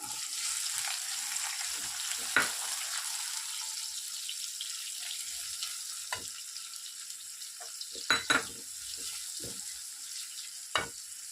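Onions frying in a pan for atukula upma (poha), a steady close hiss of oil with scattered sharper crackles and pops breaking through.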